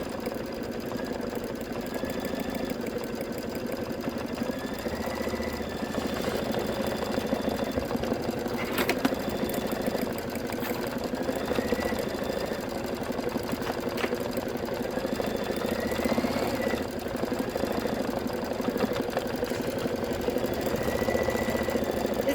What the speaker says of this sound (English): And now it's going to do the lettering. It's stitching out "You're one in a melon."